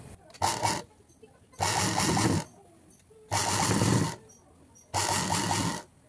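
A sewing machine stitching the lining of a high-neck blouse whirs in four short bursts separated by quiet pauses, close and mechanical, with faint low talk between runs.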